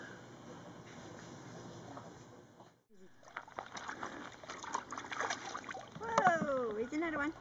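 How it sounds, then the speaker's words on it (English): A small child splashing water near a toy duck, with sloshing and splatter that rises toward the end while an adult voice and babbling talk over it. "did you splash yourself in the face?"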